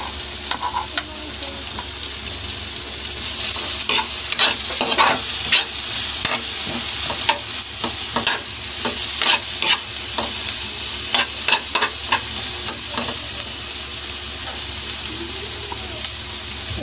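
Onion sautéing with ginger in a pan, a steady loud sizzle running throughout with repeated scraping and stirring clicks from a utensil against the pan.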